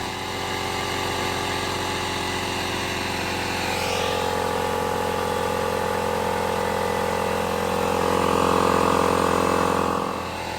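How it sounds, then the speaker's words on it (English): A Ridgid pancake air compressor runs on a portable power station, a loud continuous motor drone and pump whir that swells slightly in pitch and volume toward the end, with no one talking. "This is a rigid pancake compressor."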